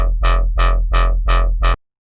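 An FM screech bass built in Serum, its harmonics shifted by an LFO, plays six loud evenly spaced notes. Each note has a bright, gnarly attack that quickly darkens, and the sound cuts to silence after the last note.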